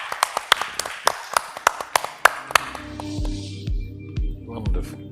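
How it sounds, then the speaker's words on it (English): Conference audience at a Bangladesh summit claps for speakers, a short burst of sharp, fairly sparse hand claps that thins out after a few seconds into a quieter room with a faint electronic tone and a few lingering thumps. "A round of applause to all the speakers again."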